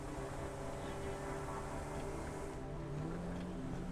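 A vehicle driving in the factory-building video game Satisfactory: a continuous, even engine drone with a steady hum and a slight pitch shift near the end, with no talk over it.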